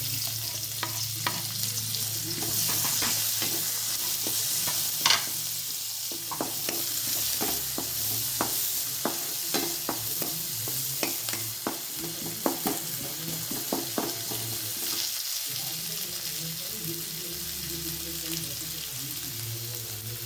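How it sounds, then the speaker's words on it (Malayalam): Chopped onions sizzle steadily in hot oil in a pan for chutney, with a continuous close frying hiss broken by frequent scraping stir strokes. "ഇനി നമുക്ക് ഈ ചെറുതായി കട്ട് ചെയ്ത ഉള്ളി ഇട്ട് കൊടുക്കാം"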